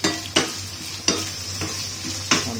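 Ingredients sautéed and stirred in a hot pan, with a constant sizzle broken by four sharp scraping stirs at irregular intervals, close and clear without any voices.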